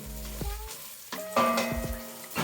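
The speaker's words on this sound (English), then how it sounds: "So while these are going, they're almost done. I'm just gonna do a quick stir." Beans frying in a pan get a quick stir, with soft sizzling and a few scraping, clattering touches of the utensil against the pan, close and brief.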